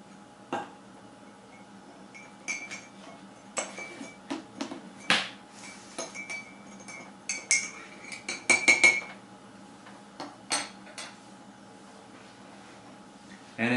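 A spoon clinks against glass and ceramic while sugar is stirred into French press coffee, giving scattered light, close taps and a brief cluster of quick rattling chinks midway, with quiet gaps between.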